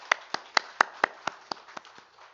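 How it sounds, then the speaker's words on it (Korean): Congregation clapping in a Sunday morning church service, about ten evenly spaced, crisp hand claps in a steady rhythm that gradually soften and fade out. "우리 박수 한번 하겠습니다."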